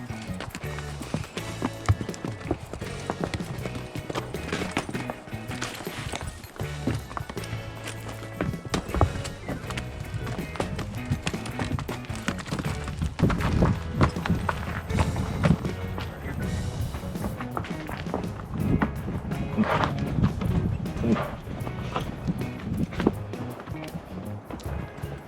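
Mammoth donkeys and mules walk a rough, snowy mountain trail, their hooves clip-clopping steadily and fairly close throughout, mixed with rustling and shifting gear, with no talk.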